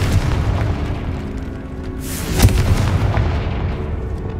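The Confringo explosive spell blasts in Hogwarts Legacy, a loud booming burst over a dense rumbling battle backdrop, peaking sharply midway.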